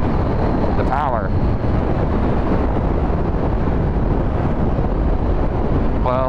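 Heavy, constant wind roar buffets the microphone of a rider on a 2018 Honda CBR650F motorcycle, loud and unbroken throughout, with faint whistling chirps near the start and the end.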